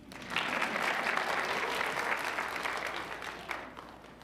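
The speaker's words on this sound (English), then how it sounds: "We can still clap for her." Applause at a city council meeting honoring tutoring students swells quickly from a group of people, holds as a dense patter of many hands, then gradually tapers off with a brief final flurry.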